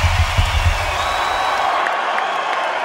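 A concert crowd at a show claps and cheers, a dense wash of applause and whoops that stays steady and fairly loud throughout.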